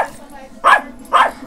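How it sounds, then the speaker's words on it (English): A dog barks twice indoors during a Wii bowling game, two sharp, fairly loud barks about half a second apart, separated by quiet room tone. "He barking at Melva."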